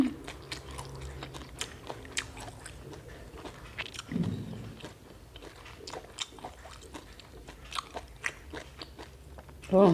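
Someone chews large raw oysters eaten with acacia shoots, fried shallots and seafood dipping sauce, with close, wet bites and crunches repeating unevenly and no one talking.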